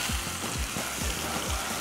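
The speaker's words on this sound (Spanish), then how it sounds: "Ahora le pongo cebolla picada." Chopped onion frying in a pan for paella gives a steady, close sizzle, with soft low thumps recurring about every quarter second underneath the broadband crackle.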